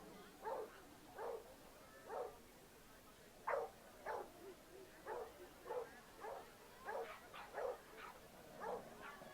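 A Jack Russell Terrier barks repeatedly at an agility competition, with a steady series of short, moderately distant yaps spaced about a second apart over low crowd and ambient noise.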